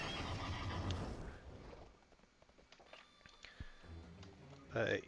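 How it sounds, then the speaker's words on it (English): A horse mount in World of Warcraft gives a short whinny near the end after a stretch of game effects and quiet ambience, with a voice talking early on. "I'll be on a horse."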